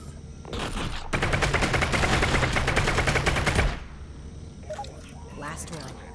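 Gunfire crackles in one long, dense, rapid burst lasting a few seconds and then stops abruptly, followed by a few quieter scattered shots and some talking.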